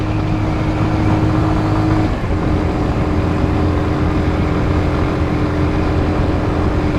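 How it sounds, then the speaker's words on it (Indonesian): A Kawasaki W175 motorcycle engine labours up the steep Gombel hill with a loud, steady droning hum, dipping briefly at a gear change before holding its strained pitch. "Lumayan juga ini motor kalau tanjakan."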